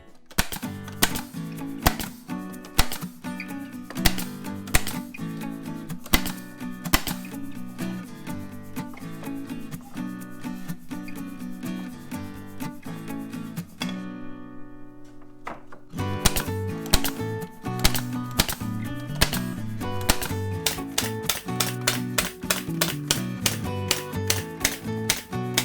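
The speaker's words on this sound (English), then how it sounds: "this time, I'll use a 4mm by 38mm floor tacker" Floor tacker driving 4mm by 38mm staples into wood drain boards for a queen-size low bed frame, loud sharp repeated bangs in quick irregular bursts, a brief lull midway, then dense rapid firing resumes.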